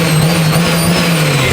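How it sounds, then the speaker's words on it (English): A Toyota JZX110 Mark II's JZ engine with a new exhaust manifold revs close and loud, a steady droning growl with a sustained buzzing tone throughout. "Engine sounds phenomenal"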